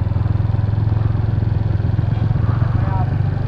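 A motorcycle engine runs steadily and loudly at close range with a throbbing low rumble as it rolls slowly through a city street toward parking, with a rider's voice briefly heard under it.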